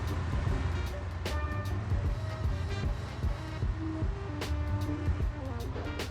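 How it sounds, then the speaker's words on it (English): The engine of a dump truck in the driving game BeamNG rumbles at a low, steady idle, with clanking knocks and clicks over it and no voices. "I just love the way this engine sounds."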